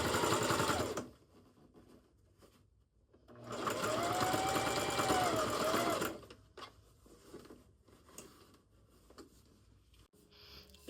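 A sewing machine stitches a seam on a rosebud-print pullover apron in two steady whirring runs, the first short and the second about three seconds long, with quiet handling sounds between and after.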